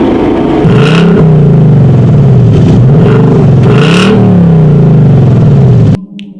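Ford Mustang active exhaust or Chevy Camaro dual-mode exhaust on 2019 models, a loud close engine rumble revving up and down in rising and falling swells before cutting off abruptly.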